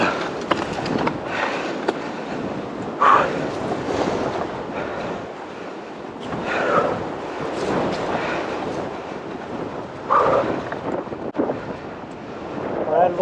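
Wind buffets the microphone while mountain biking with the wind from behind, a gusty roar that swells and fades in several loud surges with faint rattling underneath.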